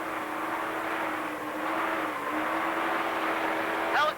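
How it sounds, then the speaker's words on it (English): Helicopter in flight during an outdoor event, a steady broad engine and rotor drone held at a constant level throughout, with a brief bright whistling sweep near the end. "Helicopter."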